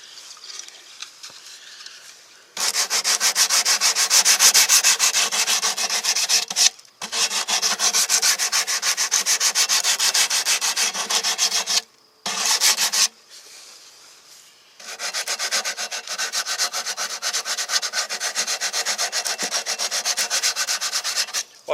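Hand sanding with 100 grit sandpaper on a 6.5 inch hand sanding pad, likely on a Ford Ranger after its first winter, long raspy back-and-forth rubbing strokes in sustained bursts with short pauses, close and loud.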